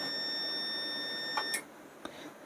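An APC UPS emits thin electronic beeps while its power button is held down, with a couple of short clicks and taps near the end, all in a quiet indoor setting.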